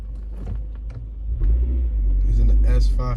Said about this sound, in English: that car came flying. That Chevy was like an Equinox or something